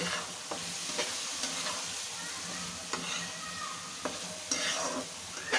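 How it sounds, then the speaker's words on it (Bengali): Fried eggs are sautéed in spice masala in a pan, a steady sizzle running throughout while a spatula scrapes and taps the pan every second or so. "এর মধ্যে এখন দিয়ে দেবো ভেজে রাখা ডিমগুলো দিয়ে আবারও ভালো করে একটু কষিয়ে নিতে হবে।"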